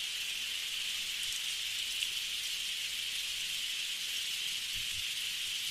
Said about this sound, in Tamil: மழை பெய்யுது.